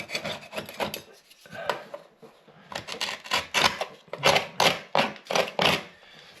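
A scraper rasping loose paint out of a crack in an old rendered sand and cement wall, a close series of rhythmic gritty scraping strokes in quick bursts.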